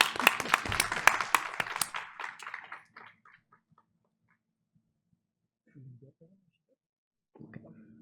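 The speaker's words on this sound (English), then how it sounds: "Let's give her a big round of applause." A room at a school board meeting claps for a student with a burst of dense applause that thins out and dies away within about three seconds. A few faint, brief sounds follow in the quiet.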